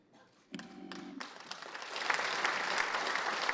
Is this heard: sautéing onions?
no